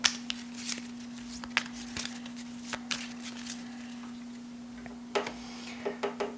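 Cards being shuffled back into a deck during a solo Goblivion board game, heard as soft scattered riffling clicks and taps over a steady background hum, fairly close with no talking.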